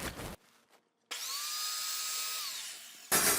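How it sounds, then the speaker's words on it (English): A table saw trims about a sixteenth of an inch off a board edge, a loud, close whining cut lasting about two seconds between quieter moments before and a burst of noise after. "So I'm going to go ahead and trim this edge, and I'm just cutting off about a 1/16 of an inch."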